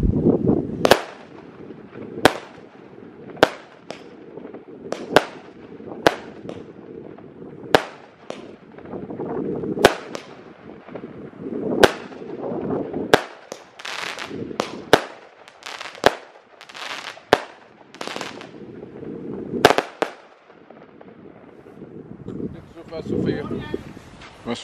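A 16-shot consumer firework battery fires at a Danish test shooting, a series of sharp loud bangs at uneven intervals over a steady background of crowd noise and wind, with people talking throughout.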